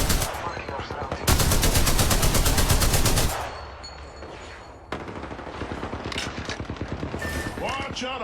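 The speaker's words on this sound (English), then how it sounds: "The enemies are shooting at me." Automatic weapon fire in the Apex Legends video game comes in loud, rapid bursts. Sustained fast rattling volleys are followed by quieter scattered shots and game effects.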